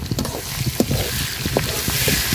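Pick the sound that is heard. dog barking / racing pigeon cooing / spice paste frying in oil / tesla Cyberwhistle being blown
spice paste frying in oil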